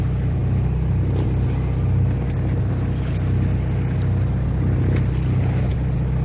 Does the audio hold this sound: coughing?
no